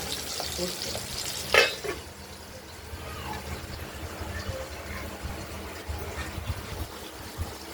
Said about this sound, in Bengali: আমরা দুটো দুটো করে মাছ ভেজে নেব।